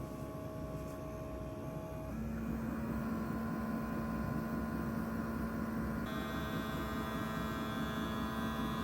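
A universal sublimation phone case machine runs its vacuum: a steady electrical hum with tonal whine that shifts pitch and grows slightly louder partway through, continuing alone at low level.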